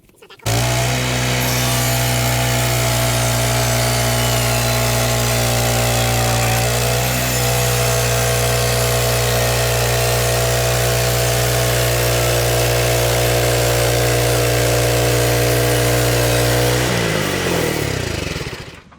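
A chainsaw mill engine runs loud and steady while cutting white oak into lumber, revving near and continuous with a brief dip where the clutch slips, then winding down at the end.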